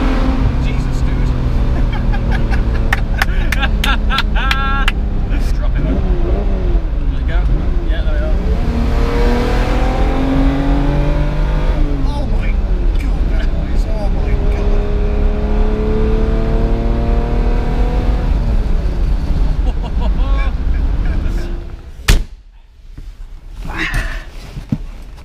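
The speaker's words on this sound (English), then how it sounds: "let's drop a window and hear this original V12. High revs." An original V12 in a classic Ferrari revs hard, the engine note climbing and falling in loud repeated sweeps, heard from inside the car with an open window, while people talk and exclaim over it.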